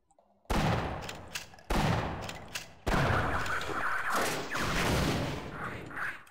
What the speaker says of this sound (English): I'm using a rocket launcher against bugs